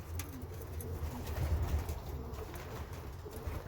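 Racing pigeons cooing in a loft, soft low repeated coos spread across the clip over a faint hum of birds shuffling, no talking.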